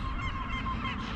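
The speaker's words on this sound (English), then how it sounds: "Listen to Seymour and our little gulls, our black-headed gulls" Black-headed gulls call in a close, dense, continuous chorus of harsh, honking cries. There is no talking.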